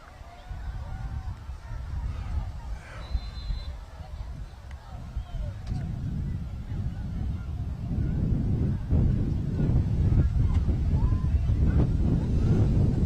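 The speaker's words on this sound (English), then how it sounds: "the wind is whipping. I'm not talking about a breeze. I'm talking about a gust" Heavy wind of about 30 mph gusts buffets the microphone at an outdoor 10U youth game in a steady low rumble, growing rougher and stronger toward the end.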